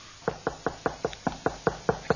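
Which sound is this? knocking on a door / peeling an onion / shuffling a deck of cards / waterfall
knocking on a door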